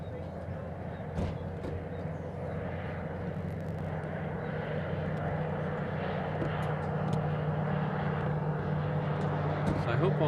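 An American Airlines jet departing Honolulu airport roars steadily at a distance, a broad continuous engine rumble with a low drone, and wind and faint background sounds mixed in.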